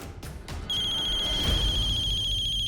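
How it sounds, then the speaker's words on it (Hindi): A phone ringtone starts after a few soft knocks and rings in a steady, bright, electronic tone with a looping pattern, loud and close in a quiet indoor room. "फोन बा।"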